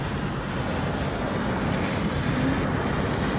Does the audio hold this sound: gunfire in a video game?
no